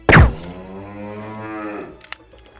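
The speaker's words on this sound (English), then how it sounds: "Ancole Watusi cattle." Ankole-Watusi cattle in the video game Animallica let out a single long, loud moo, opening with a sharp attack and holding a steady low call, followed by a few soft clicks.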